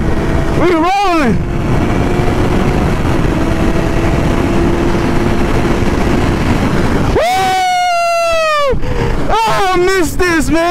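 A 2022 Suzuki GSX-R 750 motorcycle engine on the move, rising and falling in a few sharp rev bursts above a constant rush of wind, with someone talking over it.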